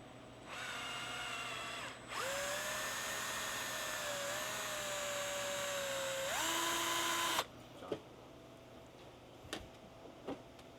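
A power drill whines steadily for several seconds, its pitch shifting as it bites in, then stops, followed by a few light knocks.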